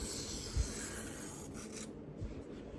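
Steady close rasping comes from a Spyderco Resilience knife bevel being rubbed back and forth on a sharpening stone, a continuous gritty scrape with no voices.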